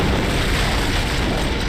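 An antimatter charge detonates aboard a ship in the Halo video game, heard as a loud, sustained, roaring boom that fills the whole moment with dense rumbling noise.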